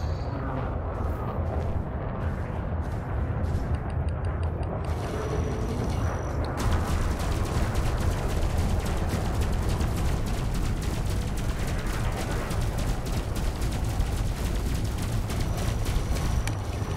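Multi-cannons fire in the space combat game Elite Dangerous, a long run of rapid, close mechanical bursts over a dense low rumble, the rattling rhythm speeding up partway through.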